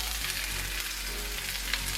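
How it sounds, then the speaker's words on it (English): Peppers and onions fry in olive oil over high heat, giving a dense, steady sizzle that stays loud and even from start to finish with no talking. "We're frying up our peppers and onions."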